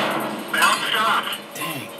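A tank shell ricochets off armor in World of Tanks, a metallic clang with ringing resonance in the middle of the clip, heard over steady engine rumble and game background noise.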